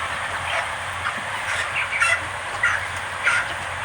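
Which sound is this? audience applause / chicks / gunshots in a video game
chicks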